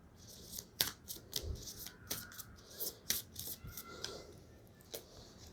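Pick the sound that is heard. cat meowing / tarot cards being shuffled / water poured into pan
tarot cards being shuffled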